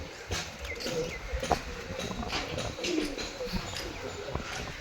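Soft, low pigeon coos repeat close by over a rustling, breezy background, with occasional chirps and faint voices in the distance.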